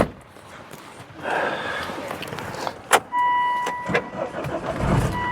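Volvo car engine starting, a short cranking burst and catch followed by a settling idle with a few clicks and electronic chimes, heard close inside the car.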